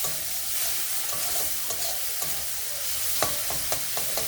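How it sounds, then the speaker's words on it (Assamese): Spice masala with salt and turmeric stirred and frying in hot oil for bread chop filling, a steady sizzle with scraping spoon strokes and a few sharper clinks near the end, close and alone. "আৰু এতিয়া মই মছলাখিনি ভালকৈ ফ্ৰাই কৰি ল'ম।"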